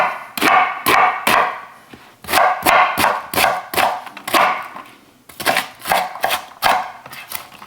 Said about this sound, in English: I'm gonna give those a rough chop